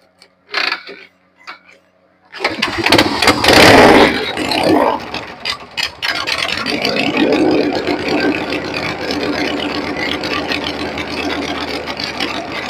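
Harley Davidson Shovelhead FXE 1200 with an S&S Super E carburetor, a few mechanical knocks of the kick lever before the engine barks to life with a loud blip, then settles into a steady, loping idle close by.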